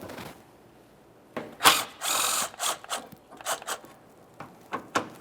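Ratchet wrench turning out a 10mm bolt from a plastic inner fender liner bracket on a 2004-2008 Ford F-150, quick bursts of close, sharp clicking with short pauses between strokes and faint handling noise.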